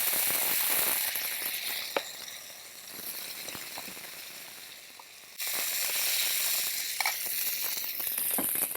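Dosa batter, one ladle of idli or dosa batter spread thin on a hot pan, hisses in a broad steady sizzle with faint crackles, close up; the sizzle dips midway and then swells loudly again.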